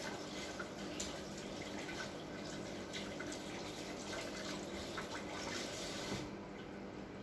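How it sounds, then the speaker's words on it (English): Tap water runs steadily while hands are washed, a continuous soft splashing hiss at close range with faint drips and a few brief splashes, no talk. "let me go wash my hands"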